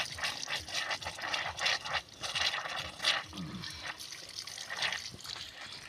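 Pure spring water flows in a mountain village forest, a continuous soft trickling and splashing that stays close and steady with no voices.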